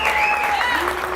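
Audience applause breaks out in a crowd gathered around a Knicks fan interview, a steady wash of clapping filling the whole moment with some voices mixed in.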